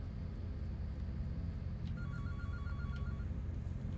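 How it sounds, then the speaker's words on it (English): A telephone in a video game rings in two short electronic trills, moderately faint over a steady low rumbling background drone. "The dial-a-hunk is ringing."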